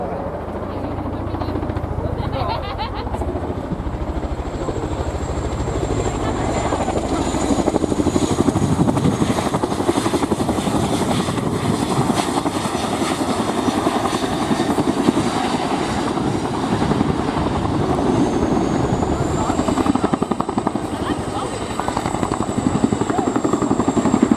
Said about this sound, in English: The aircraft will exit the low-level turn at approximately 140 knots and then bring it to a complete stop at the far end of the runway